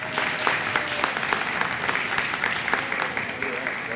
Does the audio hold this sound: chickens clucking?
no